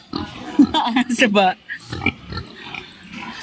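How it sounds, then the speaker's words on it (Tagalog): A brown native pig, a boar, gives short grunting oinks close by, mixed in with people talking over it. "Oo nga, baboy nga."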